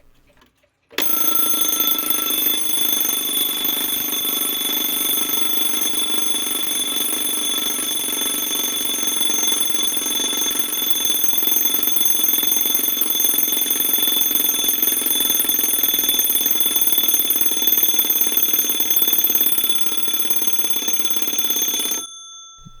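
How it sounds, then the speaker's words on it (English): An 1860s Seth Thomas column clock's alarm bell ringing, a loud, continuous metallic ring that starts abruptly and holds for about twenty seconds before stopping, heard alone up close. "The camera honestly does not do justice as to just how loud this is."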